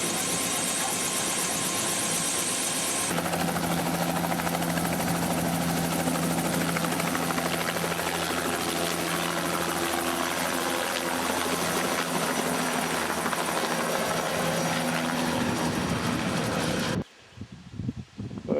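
Helicopter on a scenic flight over the Mitchell Falls gorge on the Gibb River Road, with a steady, loud rotor and engine drone and buffeting wind that carry on unbroken for most of the clip before cutting away near the end.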